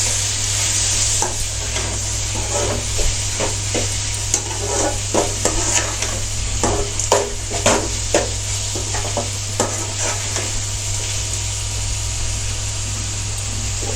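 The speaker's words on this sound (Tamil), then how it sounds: "இப்போ தக்காளி போட்டுக்கலாம். தக்காளி போட்டு அது ஒரு 2 நிமிஷம் வதங்கட்டும்." Tomatoes and onions frying in a pan for wheat rava upma, a constant close sizzle with repeated scraping and tapping from a stirring spoon, irregular strokes over a low steady hum, no voices.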